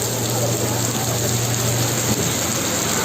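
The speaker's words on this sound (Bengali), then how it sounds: "দেখতে পাচ্ছেন বৃষ্টি" Rain falls in Portugal, a steady, dense hiss of drops that continues evenly and fairly close for the whole stretch, with no other clear sound above it.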